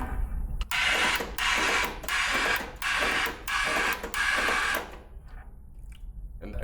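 A paint sprayer still under pressure sprays into a dirty five-gallon bucket in about six rapid hissing bursts, each lasting under a second, separated by short gaps, loud and close before the sound drops to low background noise.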